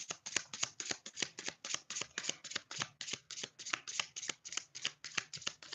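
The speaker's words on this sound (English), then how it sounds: "I'll pull at least one card out just like that." Tarot cards shuffled quickly by hand, a rapid even train of crisp riffling snaps repeating without a break, close and fairly quiet with no voices.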